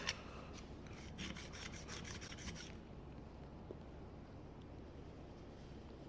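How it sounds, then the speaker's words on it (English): A steel card scraper's edge is rubbed back and forth on a 300 grit sharpening stone, giving a quick run of faint, rhythmic rasping strokes for a couple of seconds before fading to quiet room noise. "I'm going to run the edge of the scraper first on this 300 grit until we have a nice consistent edge"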